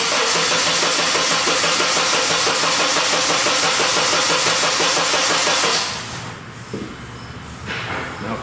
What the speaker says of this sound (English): I'm gonna go crank it